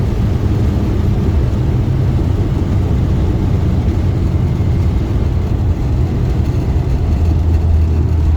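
Inside a Morris 1100S on a cross-Australia drive from Sydney to Perth, the engine drones loud and low while the car cruises, with a constant roar and rumble of road noise and no voices.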